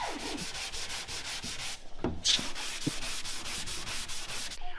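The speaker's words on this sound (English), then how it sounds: "that's pretty much all the sanding I got time for today" Repaired dents on an AMC Pacer body being sanded, a close, steady series of rhythmic rasping strokes with a short break partway through and a faint tap.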